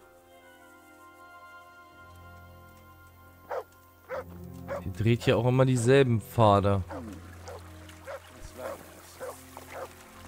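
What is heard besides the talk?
dog barking, from Kingdom Come Deliverance video game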